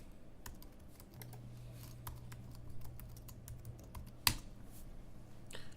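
Typing on a computer keyboard while logging in: a steady run of quiet key clicks over a faint background hum, with one sharper louder tap near the end and no voices.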